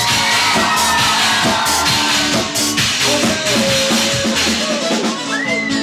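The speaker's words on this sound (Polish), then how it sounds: "Brawa" A loud club crowd at a concert in Płock cheers, shouts and whoops, with applause blended into a dense roar and music or voices rising through it.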